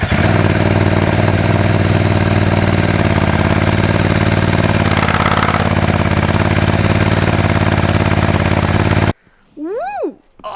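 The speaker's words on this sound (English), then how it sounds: "we've just installed the Terminioni exhaust. Now we're gonna turn it on," A Ducati Desert X adventure motorcycle with a newly fitted Termignoni exhaust idles close and loud, a steady rumbling throb for about nine seconds before cutting off, followed by a brief excited voice.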